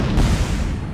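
A deep, rumbling blast with a heavy low-end boom that swells and then slowly decays over about a second.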